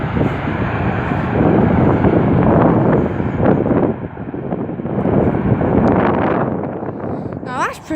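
An airplane landing in gusty wind, with a loud rushing roar of wind buffeting the microphone and engine noise, and a person speaking briefly near the end.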